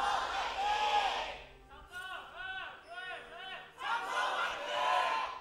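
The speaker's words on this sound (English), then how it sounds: "Samsung fans definitely trying to fight back by cheering as loudly as possible" A packed arena crowd at a 2017 LCK Spring Split League of Legends match between SK Telecom T1 and Samsung Galaxy cheers loudly, swelling at the start and again near the end, with a raised voice carrying through the middle.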